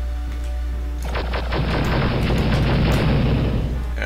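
A missile exploding in the Star Wars: Dark Forces video game, a single loud boom erupting after a second of quiet, then a roaring blast that rumbles and slowly fades.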